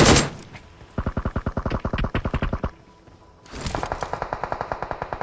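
Rapid automatic gunfire in a shooter video game, two loud sustained bursts of evenly spaced shots with a brief sharp blast at the start and a short pause between bursts.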